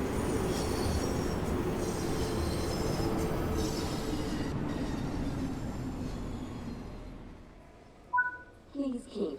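Tube train pulling into a northbound station platform in Train Sim World, a steady rumble of wheels and running gear that slowly fades as it comes to a stop, with brief short tones near the end.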